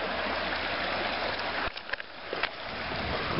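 Close, steady rush of flowing water in an outdoor stream on a homestead, broadband and continuous, briefly broken by a few knocks and splashes partway through.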